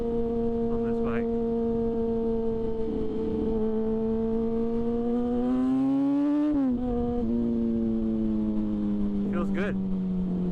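A 2006 Yamaha FZ6 motorcycle engine runs steadily in second gear, holding a constant droning pitch that rises briefly and then falls back, heard close from the rider's position with wind noise.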